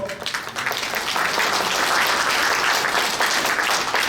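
A crowd in an event hall claps through a New Year's greeting gathering, the applause swelling after a brief softer start and then holding thick and steady to the end.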